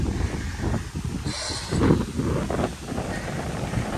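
Gusty wind rushes across the microphone on the Tantalus Arboretum hiking trail on Oʻahu, Hawaiʻi, a steady broadband roar with a stronger buffet near the middle and no talking.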